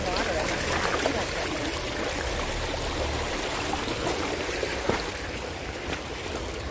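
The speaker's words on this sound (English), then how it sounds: "Walking in water" Footsteps wading through a shallow stream on a hike beside a large shepherd dog, a steady watery rush and trickle with soft splashes throughout, moderately close.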